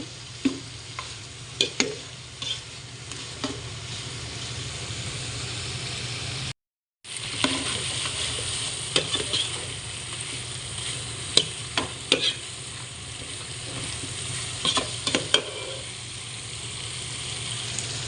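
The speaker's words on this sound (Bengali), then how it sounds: "এখানে আমি মশলাটা সুন্দর করে কষাই নিলাম।" Spice paste sizzles steadily as it is stirred and fried in a pan, with frequent scraping stir strokes and a brief break in the middle, heard close with no talk.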